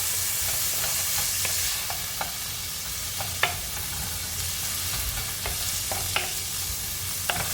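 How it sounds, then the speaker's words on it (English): Frozen mixed vegetables fry in a hot pan for seafood fried rice, giving a steady broadband sizzle with occasional light clicks of a utensil stirring and scraping. There is no talk. "these are frozen mixed veggies, so you want to go ahead and let these cook"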